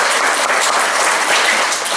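Sustained applause from a church congregation for the priest who celebrated a Pentecost first-communion mass, dense, even clapping filling the space without pause.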